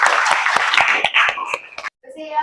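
A classroom of pupils claps in a quick, even rhythm of sharp strikes mixed with children's voices. The clapping stops abruptly before a brief pause and some talk.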